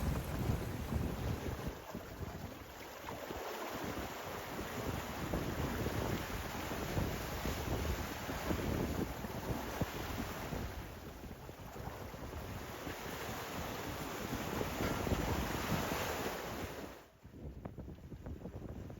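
Wind roaring across the microphone aboard a sailboat on the open ocean, with waves rushing and sloshing against the hull in a loud, continuous wash that dips briefly near the end.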